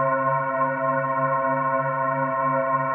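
A steady, droning synthetic tone with stacked sustained harmonics and a washy reverberant tail, low and smeared like slowed-down, pitch-lowered audio, stretched using repitch warping mode.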